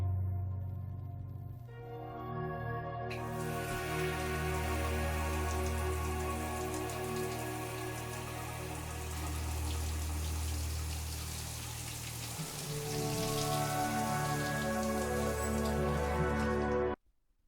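Steady rushing spray of shower water running in the game ANNO: Mutationem, a continuous dense hiss with a low humming tone beneath it, holding level for most of the stretch before cutting off abruptly.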